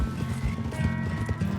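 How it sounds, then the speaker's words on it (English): Horses' hooves galloping in Red Dead Online, a steady rolling clatter of hoofbeats with low thuds under a dense, continuous mix, close and sustained throughout. "The miles melted beneath their horses' hooves as they closed in on their destination."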